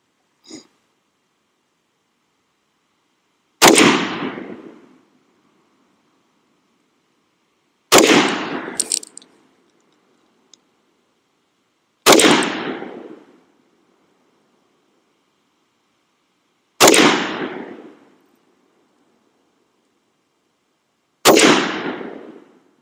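A BRN180 rifle fires 5.56 rounds at a target on a range: five loud, sharp single shots spaced about four seconds apart, each ringing out and decaying in near silence between.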